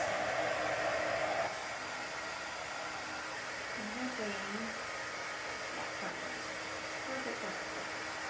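A hair dryer blows steadily up close, drying chalk paste on a sign during a Dollar Tree banner makeover, a constant airy whoosh that drops slightly in pitch after a moment, with a person briefly speaking over it.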